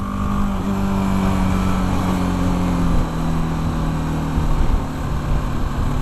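A BMW G310 GS trail motorcycle's engine drones steadily while being ridden on mixed trail and road, with a loud continuous hum and small shifts in pitch as it pulls along.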